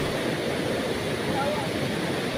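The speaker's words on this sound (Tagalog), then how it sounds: "Malakas din ang ragasan ng tubig sa ilog." Strong river current swollen by overnight typhoon rain in Negros Oriental, Philippines, rushing as a steady, dense broadband roar that fills the whole stretch without pause or break.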